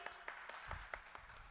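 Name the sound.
applause for Shelly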